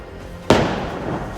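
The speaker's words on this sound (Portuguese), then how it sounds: "O tiro ecoou pela savana." One sharp rifle shot cracks out across the savanna, loud and close, and trails off into a long rolling echo.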